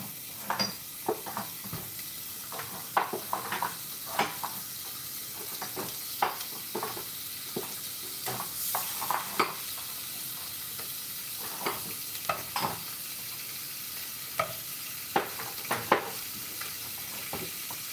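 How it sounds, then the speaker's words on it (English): Chicken skin frying in a pan of hot oil, a steady sizzling hiss broken by frequent sharp pops and crackles, close and fairly quiet, with no talking. "Chicken skin going in. Sizzle."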